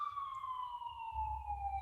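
Emergency vehicle sirens wail through downtown San Francisco, a steady falling tone with strong harmonics heard at a distance over low traffic rumble.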